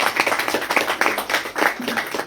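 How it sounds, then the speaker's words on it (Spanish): An audience at a bookstore night event claps for author Mauricio Rodríguez, with brisk, close and fairly loud hand clapping in an uneven rhythm that carries on without a break. "gracias a todos por un aplauso para Mauricio"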